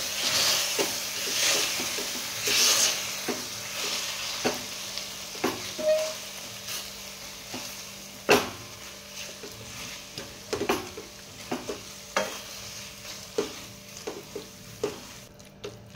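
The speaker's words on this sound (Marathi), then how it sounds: "गरम असतानाच आपल्याला मॅशरच्या साहाय्याने हे मॅश करून घ्यायचे।" Soft, squishy pressing and scraping as a masher mashes hot cooked bharit in a pan, repeated at an irregular rhythm, with a faint sizzle beneath at first.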